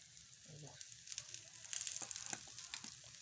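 Beetroot and onion dosa batter sizzles softly in oil on a hot pan, a faint hiss with small crackles that swells slightly toward the end. A voice is faintly present.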